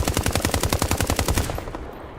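An automatic gun fires a rapid burst of roughly a dozen evenly spaced loud shots, then the firing stops and a short echoing tail fades away.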